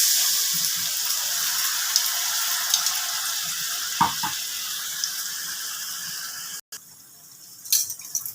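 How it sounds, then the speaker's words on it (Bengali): Water runs steadily from a tap as a container is rinsed for a Rui posto fish curry, a continuous hiss with a brief break and a few clinks near the end. "এবার আমি কন্টেনারটা ধুয়ে জলটা দিয়ে দিচ্ছি এই ঝোল হিসাবে"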